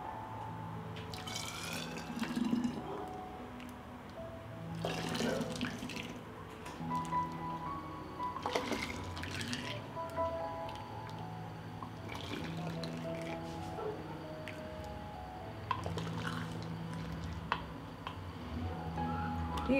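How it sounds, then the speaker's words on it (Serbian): Hot juice is poured into glass bottles sterilized in the oven, giving quiet gurgling, splashing and dripping as the bottles fill in several uneven pours. "I sada ovako vreo sok sipamo u flaše."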